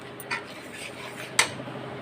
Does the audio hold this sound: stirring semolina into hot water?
yes